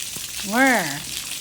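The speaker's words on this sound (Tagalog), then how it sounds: "Gigisa lang naman natin to" Salagubang beetles sauté in a pan with a soft, steady frying hiss, briefly overlaid by a person's drawn-out vocal exclamation.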